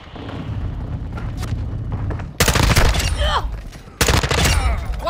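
Gunfire in the Call of Duty: Modern Warfare II video game builds from a low rumble into loud, sharp volleys, with two heavy bursts of rapid shots breaking in close and full, alongside faint voices.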